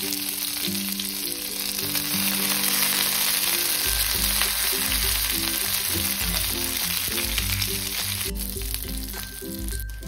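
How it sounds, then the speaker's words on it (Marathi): Stuffed green chillies shallow-fry in a pan with a loud, steady sizzle and crackle, and light background music runs underneath the whole time. "मस्त आलटून पलटून अशा ह्या मिरच्या आपण शॅलो फ्राय करून घेतल्यात"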